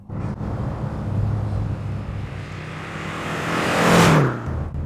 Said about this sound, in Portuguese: O motor soa bem. Você ouve muito o som do escapamento